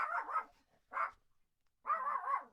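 A dog barks three times close by, two short yaps followed by a longer bark, with silence between them.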